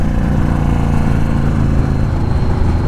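Yamaha Warrior 1700 motorcycle V-twin engine with a loud, steady close-up rumble through the whole stretch, without a distinct separate rev spike standing out, as the throttle is blipped on a downshift.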